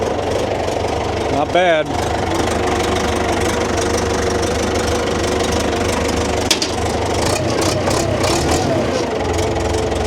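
An old Case 850B track loader's engine idles with a steady heavy diesel rumble and knock throughout, close and loud. A brief squeal rises early on, and someone speaks briefly over the engine.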